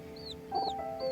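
A hen clucking softly in short murmured bursts, faint and low, with a few thin high chirps over it.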